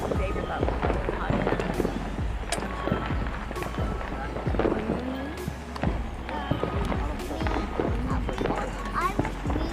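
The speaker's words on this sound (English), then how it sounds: "I think it's fireworks." Fireworks on New Year's Eve crackle and pop in rapid, irregular bursts at a moderate distance, with sharp reports scattered throughout; people talk over the bangs.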